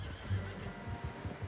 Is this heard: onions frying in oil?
no